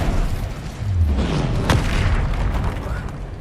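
A loud Incendio fire spell blast in Hogwarts Legacy, a single deep boom near the middle over a dense, steady rumble of game sound.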